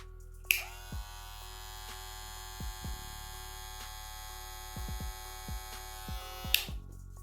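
A handheld Kemei electric hair clipper hums steadily with a high buzzing whine, switched on with a click and later off, light tapping noises in between.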